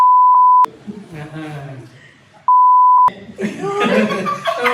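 Two steady pure-tone censor beeps, one at the start and another midway, each cutting across talk, with people speaking and chuckling between them.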